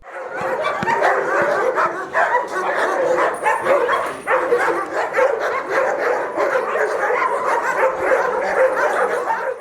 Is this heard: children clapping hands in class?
no